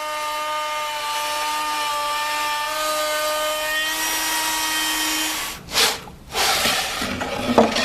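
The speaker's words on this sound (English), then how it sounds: "Clamp the disc to the template and zing away the waste with a trimmer." A handheld trimmer router cuts waste wood away from a disc along a template, a loud sustained high whine that drops out, then short bursts of cutting noise as it resumes close by.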